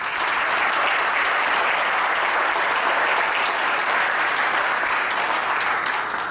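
Dense, loud applause from an audience at a spring alumni reunion, continuous and even throughout with no voices standing out.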